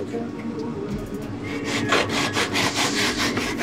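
Car paint being hand sanded with a sanding block, a rhythmic rasping scrub of repeated back-and-forth strokes, close and fairly loud, growing busier partway through.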